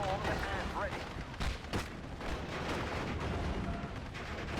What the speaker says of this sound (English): Let's bring in the mortar